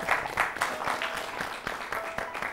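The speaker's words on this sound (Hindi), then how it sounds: "जोरदार तालियों से स्वागत किया जाए" An audience applauds to welcome a judge onto the stage at an awards show, a steady burst of mixed clapping held close and moderately loud for the whole moment.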